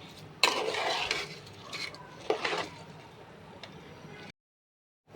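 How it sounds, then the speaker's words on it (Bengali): Rice and lentils for khichdi are stirred in a pot with a spoon, a few close scraping and clinking strokes over a quiet background before a brief silence. "ডাল আর চালটা দেওয়ার পর কিন্তু খুব ভালোভাবে নাড়াচাড়া করতে হবে, যেন নিচে না লেগে যায়।"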